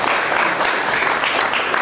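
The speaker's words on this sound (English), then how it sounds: "give him a round of applause" Audience applause at a luncheon, a dense steady wash of many hands clapping together, fairly loud and continuous throughout with no voices.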